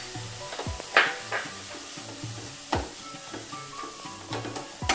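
Onion with ginger-garlic paste frying in hot oil for vegetable cutlets, a steady close sizzle broken by a few sharp stirring scrapes and clatters of a spoon against the pan.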